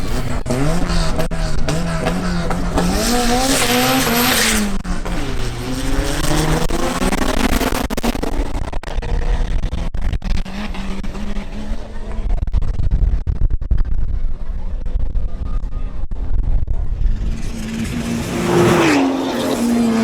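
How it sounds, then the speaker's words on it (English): A BMW M440i xDrive makes a drag race run, its engine roaring loud and close with rising gear pulls and tire noise, while an announcer talks over it. "Next up, Andres Mejia in his BMW M440i xDrive makes another run."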